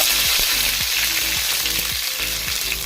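Curry leaves dropped into hot coconut oil after mustard seeds have popped crackle loudly and continuously, with quick spattering bursts throughout.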